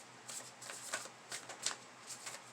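Angel and Ancestors oracle cards by Kyle Gray are shuffled softly, with faint rhythmic riffles and light flicks of card stock repeating close by in a quiet room.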